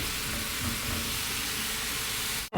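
Food browns in a pan for lemon rice soup, giving a dense, even sizzle close by that carries on steadily with no talk and cuts off abruptly at the end.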